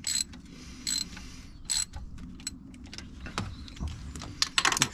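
A ratchet wrench loosens a 14mm bolt on a Nissan 300ZX twin turbo, close up, with bursts of rapid clicking ratcheting, short pauses between strokes and a fast flurry of clicks at the end.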